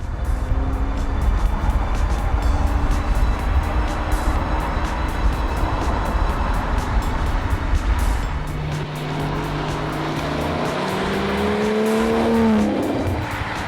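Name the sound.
Aston Martin Vanquish supercar driving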